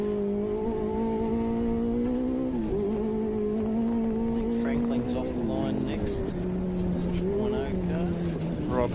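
Onboard engine of a modified Can-Am Maverick side-by-side racing in class 11 of an off-road desert race, a loud steady drone with pitch rising and falling through gear changes, continuous and close, with some voices underneath.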